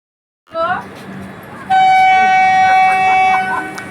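A loud, steady train horn blast sounds close by for nearly two seconds at Simultala railway station, preceded by a brief burst of voices and background noise.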